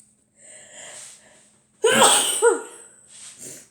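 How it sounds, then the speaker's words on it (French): A person sneezes loudly up close after a short breathy build-up, set off by dust, with a sharp burst followed by a few trailing gasps and sniffs; no words are spoken. "Je vais éternuer."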